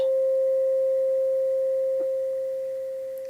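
A struck tuning fork gives a single pure ringing tone that hangs steady and slowly fades, with a faint soft tap partway through; no voices.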